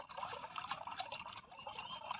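Water pours and trickles steadily into a clay pot set out for sparrows, at close range, a soft continuous liquid gurgle with small splashes, faint and without voices.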